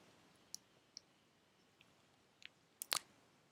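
A few sharp, quiet computer mouse clicks, scattered singly and in a quick pair near the end, over a near-silent background with no speech.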